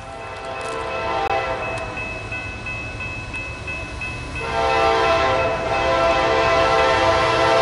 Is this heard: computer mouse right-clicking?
no